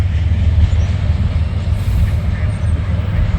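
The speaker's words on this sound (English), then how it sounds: "there goes that train" A train rolls past in Deshler, with a B&O heritage locomotive on a local freight: steady, loud low rumble and rail noise held close throughout, with a voice heard faintly over it.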